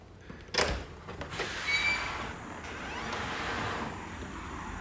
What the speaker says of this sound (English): And we'll head out that front door.